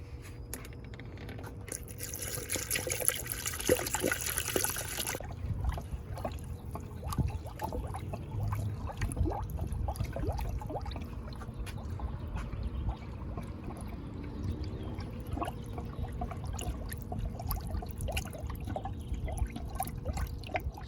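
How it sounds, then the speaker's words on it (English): Antifreeze trickles steadily through a spill-free funnel into the cooling system of a 2002-2006 Nissan Altima with the 2.5L engine during a thermostat replacement, a faint continuous pour with occasional drips over low background noise. "the antifreeze is being added on"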